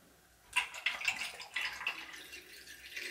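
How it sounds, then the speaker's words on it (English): Room-temperature tap water splashes and pours in uneven bursts into a film developing tank close by, starting after a quiet moment and continuing in gurgling spurts. "I'm going to just put tap water at room temperature"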